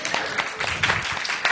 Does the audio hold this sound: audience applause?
yes